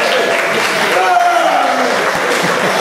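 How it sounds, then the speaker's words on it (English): An audience at a masters competition applauds the centre referee, a dense, steady wash of clapping from a sizeable crowd with a voice briefly heard over it. "give him a round of applause, your centre referee"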